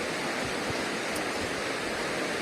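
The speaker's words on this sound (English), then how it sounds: "This is the Palpala river" Flowing water of the Palpala river in a hilly area, a steady, even broadband rush that continues without pause, fairly loud and close, with no voices over it.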